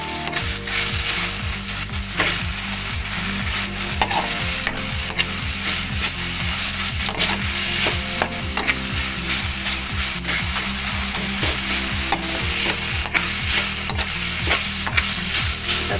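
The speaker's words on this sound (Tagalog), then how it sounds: "Haluin ko lang guys." Ground pork frying in a pan as it is stirred, a loud continuous sizzle with rapid scraping and clinking from the utensil repeating throughout, no talking.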